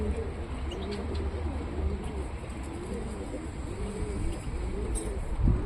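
Pigeon cooing in low, repeated rounded phrases, steady and fairly close, with faint chirps above and no voices.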